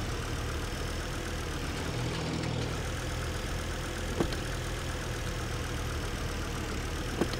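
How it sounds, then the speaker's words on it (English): A car engine idling in the video game Titan Chaser, a steady low rumble running alone throughout with a couple of faint clicks. "The engine's on."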